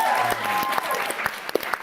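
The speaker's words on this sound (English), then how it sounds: "Nell Hudson deserves a round of applause." Audience applause at a Paley Center cast panel in October 2024, clapping spread through the room with a few sharper claps standing out, beneath some faint voices.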